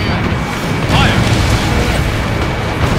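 A tank blows up in Ace Combat Infinity during a Flurry operation at Avalon Dam, a loud, dense blast and rumble under constant jet engine roar.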